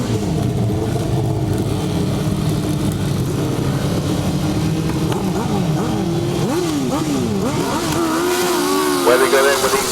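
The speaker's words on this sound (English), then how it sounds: "1000cc sidecars. Colin Blackburn making a good start." 1000cc sidecar outfits racing on a grass track in 2009, several engines roaring together nearby with rising and falling revs as they accelerate, under a commentator's voice over a loudspeaker.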